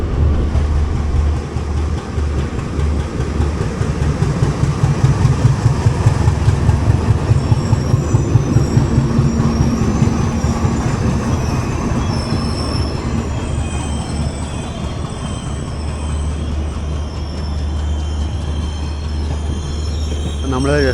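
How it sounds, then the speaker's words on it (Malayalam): Vistadome coach on the Yesvantpur–Mangaluru Gomateshwara express rolling into Hassan station: loud continuous wheel squeal and rumble with rhythmic rail clatter, heard close from inside the train, with faint voices underneath. "നമ്മൾ ജസ്റ്റ് ഹാസൻ സ്റ്റേഷനിലേക്ക് കയറുന്നു"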